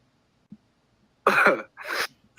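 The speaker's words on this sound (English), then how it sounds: "cough like that? Sounds like you're trying to catch your breath" Two harsh, raspy coughs close together, nearby and loud, after a moment of near silence.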